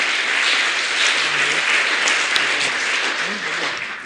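Sustained audience applause at a scholarship awards ceremony, a dense, even wash of many hands clapping that fills the room without pause.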